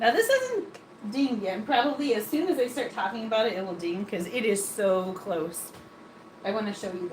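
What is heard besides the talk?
None of the usual background noises is heard.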